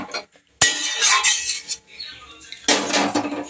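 Lid set onto a cooking pot with two sharp metallic clanks and a brief rattle between them, close and loud in a kitchen.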